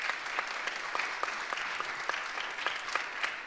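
A live audience claps steadily at a talk-style stream event, a dense, even wash of applause with distinct hand claps standing out throughout.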